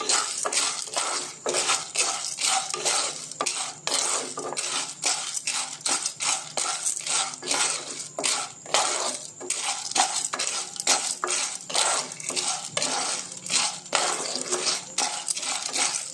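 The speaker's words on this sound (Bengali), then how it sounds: "ভালো করে নেড়ে নিচ্ছি।" Small-grain corn kernels are stirred in hot oil in a pan for popcorn, producing a dense, continuous rattle of hard kernels and metal scraping in fast, regular strokes, loud and close.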